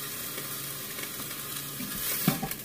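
Lemon chicken searing in a quick cooker gives off a soft, steady sizzle, with a few light clinks and scrapes near the end.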